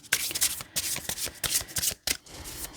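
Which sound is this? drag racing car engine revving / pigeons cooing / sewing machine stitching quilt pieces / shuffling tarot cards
shuffling tarot cards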